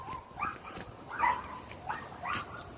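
A dog on a lakeside walk lets out a few short high whimpers and yips in quick bursts, moderately close against quiet outdoor background with no talking.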